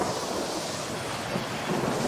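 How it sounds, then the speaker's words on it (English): Distant thunder rolls as a dense, continuous rumble, heard alone without speech. "I hear the whisper of a pilot begging forgiveness over the sound of distant thunder."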